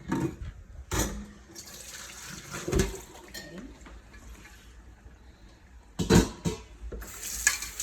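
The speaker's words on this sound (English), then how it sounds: "We're gonna drain our spaghetti." Cooked spaghetti drained from a bowl of cold water: splashing, pouring water and clattering of the bowl come in several loud bursts, with quieter running water in between.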